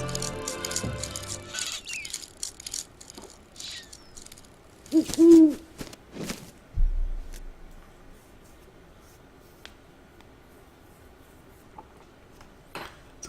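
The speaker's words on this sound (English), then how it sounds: "It's a funky looking owl." A robot owl in Syberia 3 hoots once, clear and fairly loud, among scattered mechanical clicks and ticks, after a whirring wind-up at the start.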